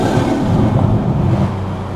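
A Toyota GR Supra with a titanium exhaust and ARMASPEED intake drones loudly and steadily from inside the car on a night drive in the UK, a deep continuous engine rumble with no talking.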